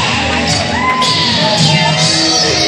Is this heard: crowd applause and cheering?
yes